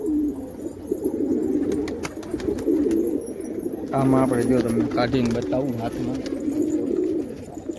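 Racing pigeons being readied for a tournament coo steadily in low, throaty rolls nearby while someone talks over them, with faint chirps and rustling around the birds.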